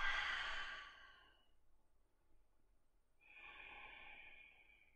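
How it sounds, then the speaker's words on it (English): Slow, deep breaths during a yoga session: a long, soft exhale fading out, a quiet pause, then a steady inhale, close and gentle with no talking. "Deep breaths."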